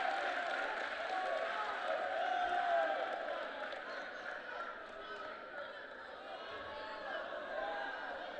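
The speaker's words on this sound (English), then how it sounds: "As that draws a big cheer from the North Putnam fans" Crowd noise from North Putnam fans at a high school basketball game, a broad sustained roar of cheering and chatter in a gym that swells and then eases, with announcer talk over it.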